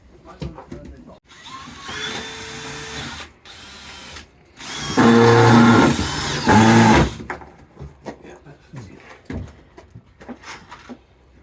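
A power drill driving a screw at an allotment whirs in several bursts, some short and some sustained, with louder close whines in the middle and quieter stops and handling noise between them.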